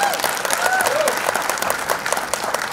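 An audience at a celebration honouring a singer bursts into loud, continuous applause, dense clapping filling the space with a few brief rising whistle-like tones early on.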